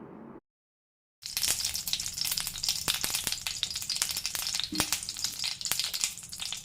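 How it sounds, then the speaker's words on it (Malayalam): Butter meeting hot coconut oil in a pan gives a steady, close sizzle with scattered pops and crackles after a brief silent gap, with no talking. "അല്പം ബട്ടർ ചേർത്ത് കൊടുക്കുന്നുണ്ട്."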